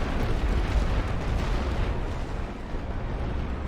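Light artillery fire rumbles without pause in the World War I strategy game The Great War: Western Front, a dense, loud wash of overlapping booms and blasts with no clear gaps between them.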